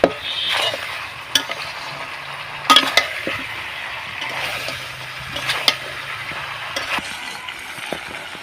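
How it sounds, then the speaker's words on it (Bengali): A spoon stirs spiced chicken curry dusted with garam masala in a pan, with close, intermittent scraping and clinks against the metal over a soft background sizzle and no talking. "একটু গুঁড়ো গরম মশলা ছড়িয়ে দিলাম, দিয়ে নেড়ে চেড়ে জলটা দিয়ে দেবো"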